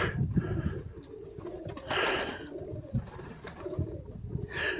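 A flock of pigeons feeding outdoors on a cold day, cooing in low, throaty repeated calls close by, with faint wingbeats and rustling between coos and no speech.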